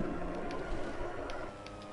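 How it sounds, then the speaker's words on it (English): A siren in a heist video game, a steady electronic wail running faintly through the whole short stretch with no talk over it. "Sekarang kita main Siren."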